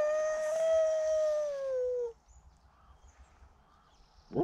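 A single sustained coyote howl with rich harmonics rises and slowly falls for about two seconds, then fades into quiet background with a short noise at the end.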